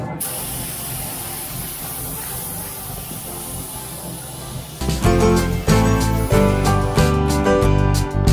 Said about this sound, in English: we're done spraying the paint